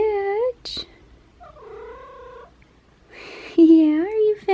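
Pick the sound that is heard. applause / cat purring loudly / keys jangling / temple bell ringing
cat purring loudly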